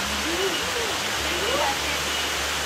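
A waterfall pours into a natural swimming pool at a villa in Bandung, a steady loud rushing hiss filling the whole clip while a person's voice talks briefly over it.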